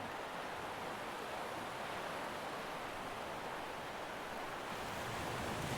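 Steady surf of waves breaking on a Massachusetts beach, a continuous broadband wash at moderate level with some wind, no voices.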